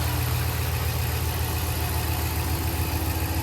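A fourth-generation Ram pickup truck engine idles steadily just after a cold air intake upgrade, a loud, continuous low rumble running smooth and even from start to finish with no voices.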